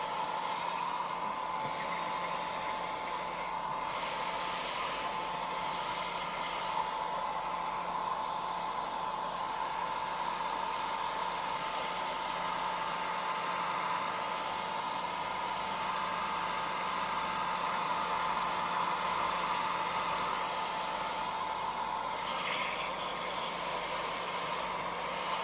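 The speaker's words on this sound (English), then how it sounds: "little a little bit of hair dryer" A hair dryer runs nonstop at a hobby table, giving a steady, close whooshing blow of air that stays even in loudness for the whole stretch.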